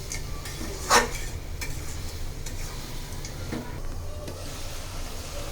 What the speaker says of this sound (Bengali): কাঁঠালের বিচির সাথে শুটকিও দিয়ে দিলাম, দুইটা একসাথে ভালো করে কষাই নিব